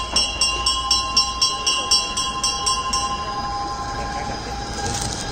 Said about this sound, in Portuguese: O trem.